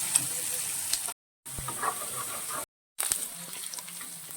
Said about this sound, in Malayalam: ഇപ്പം നമ്മുടെ മീൻ്റെ നമ്മൾ ഫ്രൈ ചെയ്തുകൊണ്ടിരിക്കുകയാണ് ഇത് നന്നായിട്ട് കുക്കാണ് കേട്ടോ